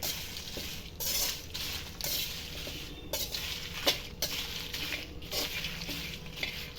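Curry leaf powder ingredients and salt mixed in a pan, heard as a continuous run of close scraping and clinking stirs with a light sizzle underneath.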